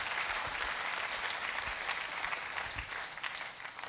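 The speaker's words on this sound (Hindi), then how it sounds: "कि हम चाहेंगे इनके लिए भी एक जोरदार ताली हो जाए।" An audience at a Safe Shop leadership event applauds loudly and continuously, dense clapping from a large crowd that tapers slightly toward the end.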